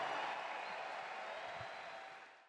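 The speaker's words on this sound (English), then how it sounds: "another wonderful round of applause for all the wonderful memories" An audience applauds in a dense, steady wash of clapping that fades out toward the end, heard at a distance.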